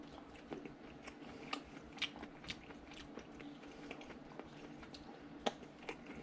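Someone chews a slice of dry-aged ribeye done prosciutto style, giving quiet, close mouth sounds with soft bites and moist crunches spread irregularly over a faint background.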